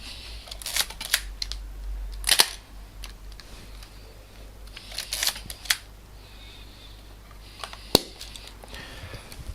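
Nikkormat FT3 film camera shutter firing, a few sharp mechanical clicks spaced several seconds apart, close and crisp over a quiet room hum with small handling noises.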